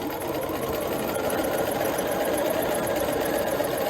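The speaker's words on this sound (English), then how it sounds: "I am going to back stitch here just to have a nice crisp edge, and then go forward again" Sewing machine back stitching a skirt hem, a steady close mechanical whir with fast even needle ticking, running continuously without pause or voices.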